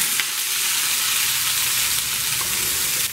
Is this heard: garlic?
yes